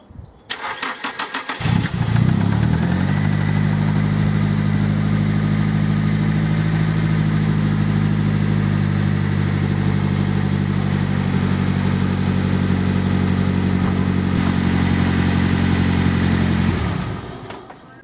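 A Nissan 180SX engine cranks and catches, then runs at a steady, even idle for a long stretch before cutting off near the end, loud and close with no talk.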